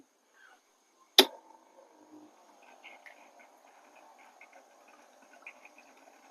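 An aquarium filter clicks on with a single sharp switch snap, then settles into a faint, steady low hum with light watery trickling.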